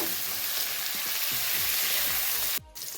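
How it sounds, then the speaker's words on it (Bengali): Cauliflower frying in oil over medium heat gives a dense, steady sizzle close by, with repeated soft scraping strokes of stirring and a brief drop near the end. "ফুলকপিটা আমি মিডিয়াম আঁচে ভেজে নেব"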